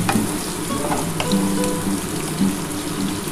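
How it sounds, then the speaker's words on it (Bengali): Oil sizzles steadily as onions fry in a pan, with occasional stirring clinks and scrapes; close by, no talking. "পেঁয়াজটা লাল লাল করে ভেজে নিই"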